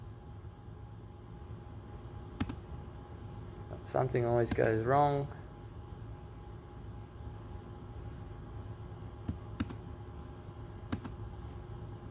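A handful of scattered keystrokes click on a computer keyboard against a quiet room hum, isolated taps spread across the stretch, with a short spoken remark in between.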